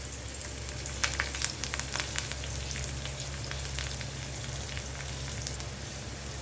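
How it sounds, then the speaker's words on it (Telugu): Onions, garlic and dried red chillies fry in a pan with a steady, fairly quiet sizzle and a few brief crackling pops, continuous and close with no talking. "ఆనియన్స్ అన్నీ వేగాలండి"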